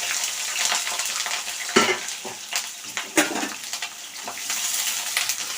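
Brinjal pieces fry in a pan with a steady close sizzle, punctuated by scraping and clinking of a spatula against the pan as they are stirred.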